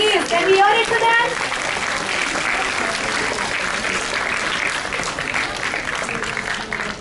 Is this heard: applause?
yes